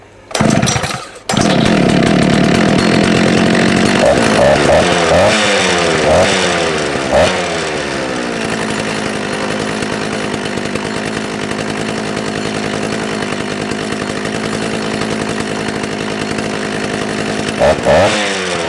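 An old two-stroke disc cutter coughs, then roars to life close by, with a few quick revs before settling into a steady, loud buzzing run that continues to the end.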